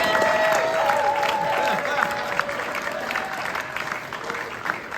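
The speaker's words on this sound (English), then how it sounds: "So another round of applause for Gilbert." An audience at a jazz concert claps for a soloist, a steady, fairly loud round of applause that thins gradually over a few seconds, with some voices mixed in.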